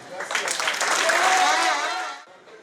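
Supporters at a political rally burst into enthusiastic applause, a dense wash of clapping that swells, holds for about two seconds, then fades quickly near the end.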